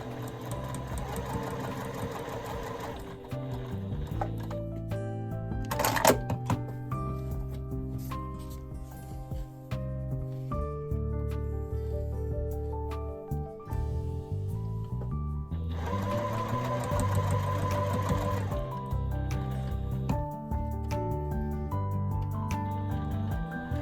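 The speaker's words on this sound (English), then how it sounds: "Now we're going to baste 3/8 of an inch away from our dart," A sewing machine bastes batik linen near a dart in rapid mechanical runs of stitching, with short pauses and changes in pace between bursts, close and clear.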